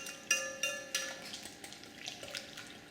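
A spoon stirs gumbo roux in a bowl, striking the side in three sharp clinks in quick rhythm and then trailing off into softer scraping taps, close and quiet.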